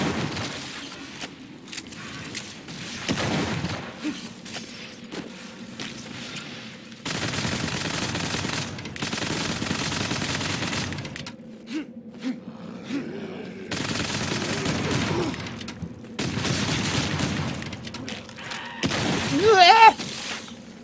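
Heavy gunfire from the most powerful weapon in the shooter game WRATH: Aeon of Ruin, bursts of loud booming shots in separate volleys with short pauses between, continuing for about twenty seconds.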